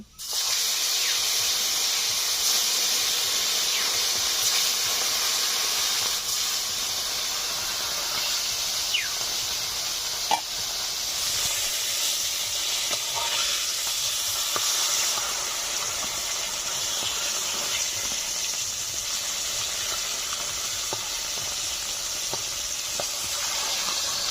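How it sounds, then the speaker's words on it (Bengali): Koi fish fry in hot oil, giving a loud continuous sizzling hiss that runs the whole time with small pops and crackles and no talking. "বাদ বাকি মাছগুলো ভেজে নেব।"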